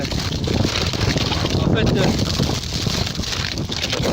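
Strong wind buffets the microphone outdoors in snowy northern country, a constant loud rumbling roar that runs throughout while a voice speaks briefly over it.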